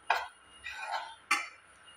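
Metal spatula scraping flour in a wok as it roasts over a mid flame for a milk sweet, three distinct scraping strokes, close and fairly quiet, with no talking.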